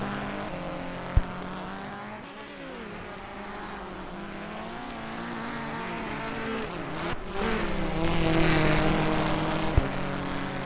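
Subaru rally cars sliding sideways at a NASA RallyCross event, engines droning and revving steadily with rising intensity toward the end, a couple of sharp knocks cutting through the motor noise.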